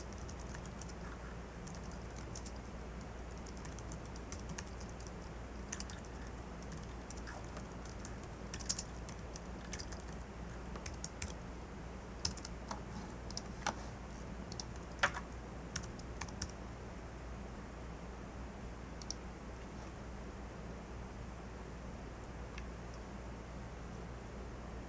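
Typing on a computer keyboard to fill in a username, irregular light key clicks in short runs over a steady background hiss, with a few sharper taps standing out.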